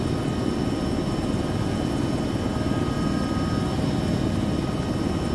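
A military helicopter drones loudly and continuously with a low, throbbing rotor chop during a fast-rope training exercise, steady throughout and no one speaking.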